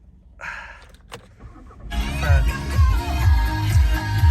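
A Volkswagen Tiguan R-Line with a 140 kW engine cranks with a short whir and catches, settling into a steady close idle rumble.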